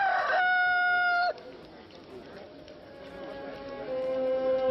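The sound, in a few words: rooster crowing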